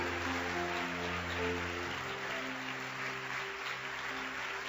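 A church congregation applauds together, a steady wash of clapping over a sustained organ or keyboard chord that shifts partway through.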